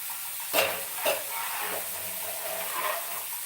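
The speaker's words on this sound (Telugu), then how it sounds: "ఉల్లిపాయ వేసుకున్న తర్వాత ఉల్లిపాయ వేస్తూ ఉండగానే కొంచెం బ్రౌన్ వచ్చే వరకు మనము వేయించాలి" Onions frying in a pan until browned, a steady soft sizzle with a couple of brief stirring clatters near the start, close and moderately quiet with no talking.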